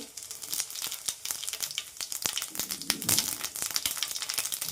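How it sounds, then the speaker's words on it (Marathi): Mustard and cumin seeds sizzle and pop in hot oil, a dense crackling hiss broken by many sharp spattering clicks, loud and close, with no talking. "छान तेल तापले तर आपण जिरे मोरे टाकून घेणार मोहरी जिरे"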